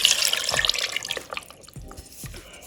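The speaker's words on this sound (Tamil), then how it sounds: "லைட்டாக இதை கழுவி ஊற்றிக்கிறேன்" Water splashes and pours while a sardine curry is prepared in a kitchen, a close, running stream at first that thins into scattered drips and trickles.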